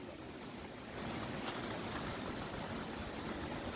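Reggae Falls waterfall in Jamaica, a steady broadband rush of falling water heard outdoors, loud and continuous with a slight rise after the first second.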